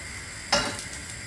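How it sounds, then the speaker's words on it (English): Onion, ginger and garlic hit hot oil in a pan with a single sudden sizzle burst that quickly settles into a soft, steady frying hiss. "with the two pans, I'll be frying up the onion, ginger and garlic"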